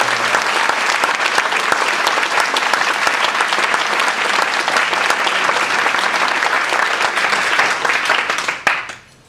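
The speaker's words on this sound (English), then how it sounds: "let's give them a round of applause" Dense, sustained audience applause fills a banquet hall at a beef cook-off gala, loud and steady for about nine seconds before cutting off abruptly.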